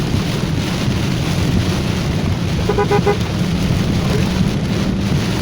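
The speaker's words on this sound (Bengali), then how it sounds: "তো আপনারা হয়তো ইতিমধ্যে দেখতে পেলেন প্রচণ্ড পরিমাণ বৃষ্টি" Dense, steady heavy rain roars throughout on a road near Dhaka airport, a heavy wash of rain with a low rumble beneath and no pauses.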